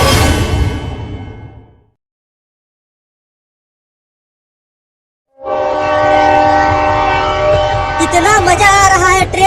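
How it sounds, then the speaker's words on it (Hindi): Train rumble and horn blasts for a comic ride scene, loud at the start, then a gap of silence, then a sustained clattering run with rising horn tones toward the end. "कितना मजा आ रहा है ट्रेन की सवारी करते हुए।"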